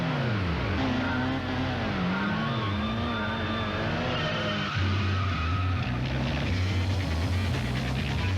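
Racing cars skidding in the Gran Turismo video game: loud, sustained tire squeals sweeping up and down in pitch over a steady engine drone, continuous throughout.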